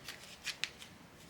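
Oracle cards shuffled in the hands during a tarot reading, with a few soft papery flicks and one crisp snap, close but quiet, no voices.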